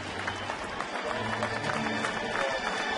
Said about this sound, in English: Folks standing and applauding as Albert is out of the game